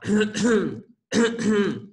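A person clears their throat twice in quick succession, two loud, close, rasping bursts separated by a short pause, likely imitated by a voice during a lesson on pulmonary symptoms.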